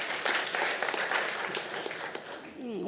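A conference audience gives brief applause that lasts a couple of seconds and then fades, with a voice starting up near the end.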